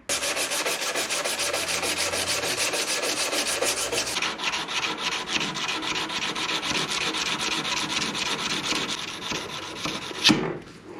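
Close, continuous rasping of 220-grit sandpaper rubbed back and forth on a wooden knife handle in quick rhythmic strokes, briefly interrupted by a knock near the end.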